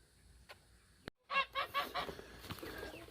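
Several loud honking calls from geese in quick succession after a brief silence, with more scattered honks trailing off behind.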